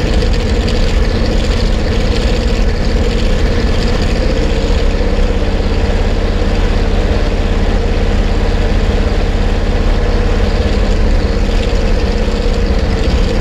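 Fire truck supply pump engine, a cold-blooded motor warming up, runs on in a loud, steady idle with a constant low rumble and no change in speed, with no voices over it.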